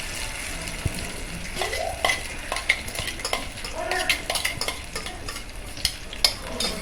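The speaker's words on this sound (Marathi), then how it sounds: "आता तेलामध्ये टाकलंय आहे" Foraged wild mushrooms fry in oil with a close, continuous sizzle broken by repeated scraping and stirring strokes of a spoon in the pan.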